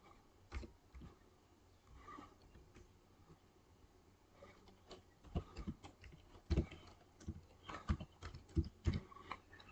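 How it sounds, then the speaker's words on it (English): Fingers tap out email addresses on a computer keyboard, giving irregular bursts of soft key clicks, sparse at first and then denser, close and quiet. "type the email addresses you want to send the email to one after the other"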